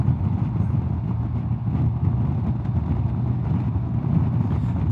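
A Vespa GTS 300 scooter with its original exhaust runs at steady, droning engine load, a continuous low rumble with rough texture and no clear pauses, close by and loud.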